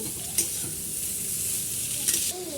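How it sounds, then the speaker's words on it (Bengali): Shredded cabbage and mixed vegetables stir-frying in a pan for chowmein, a steady close sizzle with scraping stirs throughout, no talking. "বাঁধাকপিটা দিয়ে দিলে এবারে ভালো করে ভেজে নিয়ে ভালো করে এটা ভাজা হয়ে গেলে চাউমিনটা দিয়ে দেবেন"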